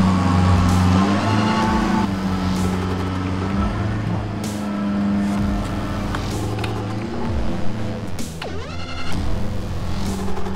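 A flat track motorcycle passes by close on a dirt track, its engine rising then fading as it goes, with other engines rumbling steadily in the background throughout.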